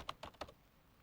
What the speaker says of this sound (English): After the period, with no spaces, I'll type readersdigest.com.